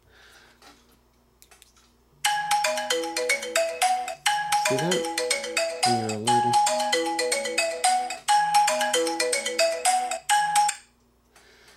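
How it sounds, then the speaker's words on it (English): An Orbit Bluetooth key tracker fob sets off a loud melodic ringtone on a phone, repeating a bright electronic tune for about eight seconds before stopping abruptly, with a brief spoken phrase underneath. "I can still track my phone from the fob, even with it on vibrate mode."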